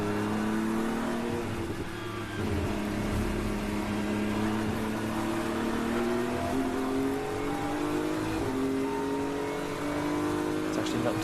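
KTM and Ligier prototype race cars lapping the Brno circuit in an endurance race, engines droning steadily with rising and falling pitch throughout, loud and continuous with commentary talk over it.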